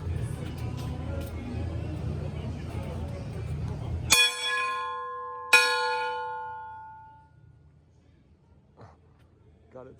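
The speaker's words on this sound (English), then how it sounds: "So they let you ring the old bell." An old bell at the oldest wooden schoolhouse in St. Augustine is rung twice, each clang loud, close and bright, with a long ringing decay after background rumble and breathing.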